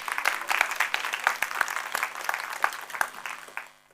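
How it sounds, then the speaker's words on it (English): A crowd applauds steadily for several seconds, a dense patter of clapping that fades out at the end. "So give a big round of applause."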